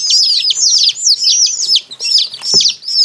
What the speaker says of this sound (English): They're probably saying, cheep, cheep, we're cold.